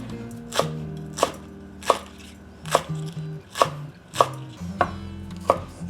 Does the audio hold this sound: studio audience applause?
no